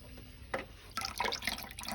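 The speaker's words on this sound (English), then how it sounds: "but the water is coming through here" Water dripping and splashing from a pipe on a Triangle Tube combi boiler, a few irregular close drips and trickles over roughly two seconds.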